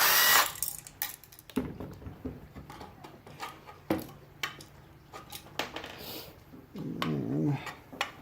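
Screws being removed from a welder extension cord plug cover with a hand tool: intermittent clicks, scrapes and light knocks at close range, a few sharper taps and brief handling noises, with no talking.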